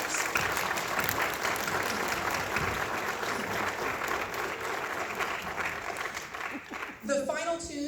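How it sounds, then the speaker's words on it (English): An audience at a regional concert band performance applauds steadily for several seconds, dense clapping throughout, with a voice and a brief musical note near the end. "can we give a rousing round of applause to our directors and parents that help us and support us?"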